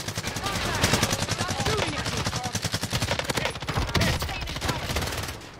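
Rapid sustained automatic fire from an AK rifle in the video game Warzone, loud and close, a dense fast rattle of shots running nearly the whole time with only brief gaps, a voice faintly underneath.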